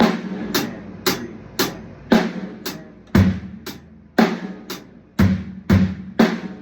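A drum kit plays a two-bar groove as part of a paradiddle fill lesson. Punchy hits land steadily about every half second and swell in loudness, close and alone with no talk.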